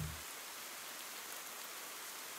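Steady rain falls in Ender Lilies: Quietus of the Knights, an even, dense hiss of rainfall that continues unbroken after a brief low thump at the start.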